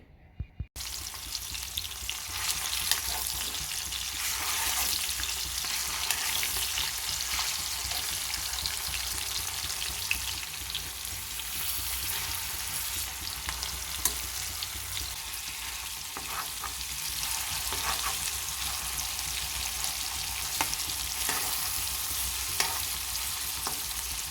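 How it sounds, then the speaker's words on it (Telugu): Chicken frying in oil in a home kitchen pan for a Telugu chicken fry and curry, a steady close sizzle with crackling pops throughout and no talk. "ఆయిల్లో బాగా వేగనివ్వాలండి"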